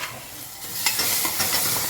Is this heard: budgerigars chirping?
no